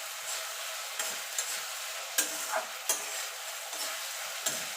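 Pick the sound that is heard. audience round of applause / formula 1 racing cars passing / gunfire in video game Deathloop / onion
onion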